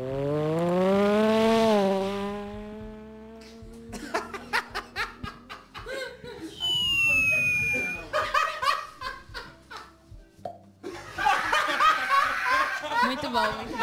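A voice imitates a motorcycle passing, a rising and falling engine drone that sweeps by loud and close, with laughter and chatter from a group around him before and after.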